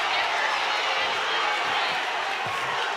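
Loud, steady crowd roar filling a high school basketball gym after a steal and a collision with the referee, the crowd voicing its displeasure at the official, with no clear gaps or distinct claps.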